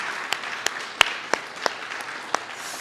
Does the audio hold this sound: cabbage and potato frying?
no